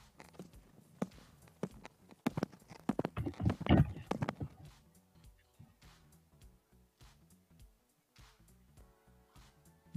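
Hooves strike the ground in a run of quick rhythmic clops as a horse trots in a riding arena, loudest in the first half and fading after, with a coach's voice speaking now and then.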